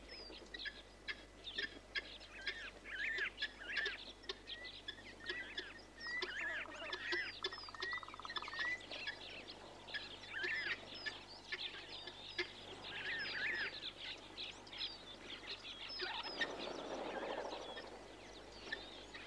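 Water birds, especially waders, call at a waterhole with a busy chorus of repeated clucking and chattering notes, moderately close and continuous, with no speech.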